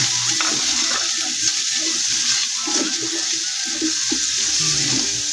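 Onions and garlic frying in a pan for pork igado, a steady close sizzle with scattered stirring clatter throughout.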